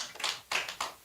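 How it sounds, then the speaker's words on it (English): A few scattered claps come from a church congregation during a Sunday service fundraising pledge. Three or four faint, distinct hand claps sound over about a second. "Give a clap."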